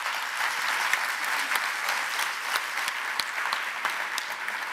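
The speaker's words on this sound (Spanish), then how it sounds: "Un aplauso." Continuous applause from a congress audience at an international nursing and care conference, moderately loud and even, with some individual claps standing out.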